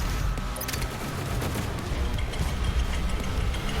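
Dense, relentless gunfire and explosive blasts from the first-person shooter DOOM Eternal, a loud continuous barrage of overlapping shots and booms during a combat challenge, close and without talk.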